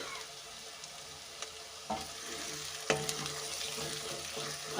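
Onions for a fish curry fry quietly in a pan, a soft continuous sizzle with a few sharp spatula scrapes and knocks as they are stirred.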